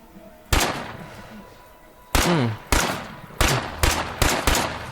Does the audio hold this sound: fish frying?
no